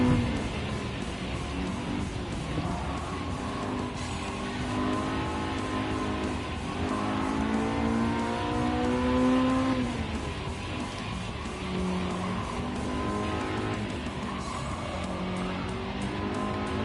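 Gran Turismo 7 race car engine roaring and revving through gear changes, with tyre squeal and skidding layered in, loud and continuous throughout.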